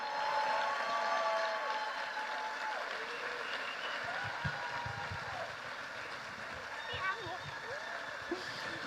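A live audience applauds at a talk event welcoming a singer, a broad steady wash of clapping that gradually thins, with voices talking and calling out over it.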